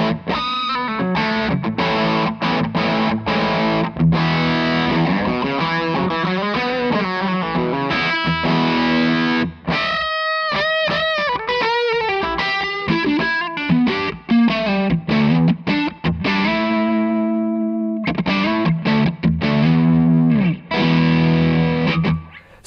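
Electric guitar played through a Yanis Effects Me Sneaks X overdrive pedal, loud and continuous with driven chords and busy riffs, a brief drop near the middle and a ringing sustained chord before the playing resumes, no talking.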